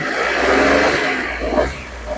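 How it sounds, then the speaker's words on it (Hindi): A Maruti Suzuki S-Presso's 1-litre three-cylinder petrol engine revs loudly up close, rising and falling in a short throaty burst with no talk over it. "किसी भी एक इंजन की हम आवाज़ सुनते हैं"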